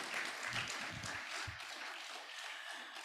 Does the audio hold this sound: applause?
yes